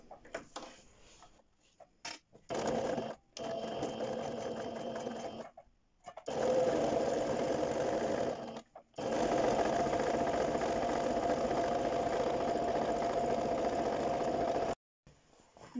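Sewing machine stitching faux leather under a Teflon presser foot, running in long steady bursts with brief pauses between seams, close and continuous.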